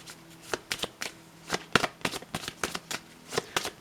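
Tarot cards being shuffled by hand, a run of quick, soft riffling bursts and taps in an irregular rhythm, close and quiet, with no talking.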